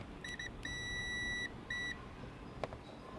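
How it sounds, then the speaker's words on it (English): A multimeter in continuity mode beeps through homemade alligator-clip test probes, giving a short tone, a long steady one and another short one. Each is a clean, loud electronic tone, followed by a faint click. "set it to continuity mode, and let's see if it beeps"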